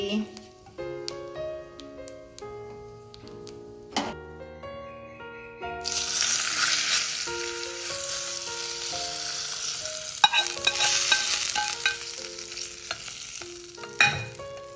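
Steady, loud sizzle of a tempering with asafoetida and chili powder frying in hot oil for boondi raita, starting partway in and continuing with stirring scrapes; light background music plays before and under it.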